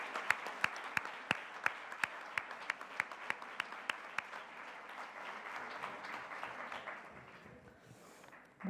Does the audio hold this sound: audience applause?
yes